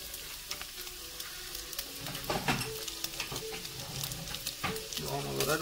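Bacon browns in a hot pan on a stove, a bright steady sizzle and crackle with occasional stirring clatters and scrapes, close and fairly quiet, rising a little in the second half.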